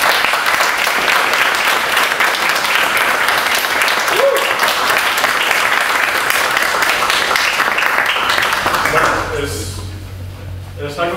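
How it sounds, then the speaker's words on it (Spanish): Concert audience at a double bass festival closing concert applauds in a sustained, fairly loud burst that tapers off near the end as the hall settles and a voice comes in. "Juan José Gamboa Guerrero, si le podríamos dar un aplauso."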